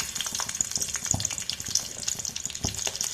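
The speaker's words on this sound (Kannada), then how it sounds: "ಈಗ ಎಣ್ಣೆ ಬಿಸಿಯಾದ ಮೇಲೆ ಬೆಳ್ಳುಳ್ಳಿಯನ್ನು ಹಾಕಿ" Garlic dropped into hot oil for a radish chutney, crackling and sizzling steadily up close, with a few louder pops and spits breaking through the frying hiss.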